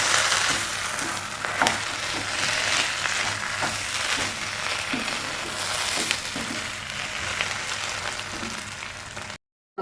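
Mashed tapioca (kappa) and coconut masala are stirred in a frying pan, sizzling steadily with repeated scraping strokes of the spoon, close and continuous, cutting to silence just before the end.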